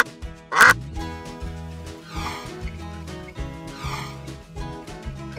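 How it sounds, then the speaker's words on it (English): A duck quacks loudly several times, in short nasal bursts spaced a second or two apart, over steady background music. "Duck"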